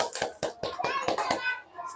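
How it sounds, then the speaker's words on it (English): Hands clapping in a rhythmic run of sharp claps during a children's nursery rhyme, likely with a voice, close and fairly loud. "clap your hands"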